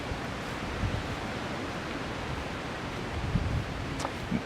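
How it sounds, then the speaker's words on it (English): Wind gusts steadily across a beach park in Toronto, making a soft, broad, continuous rush with brief louder buffets. "oh, the wind's coming again"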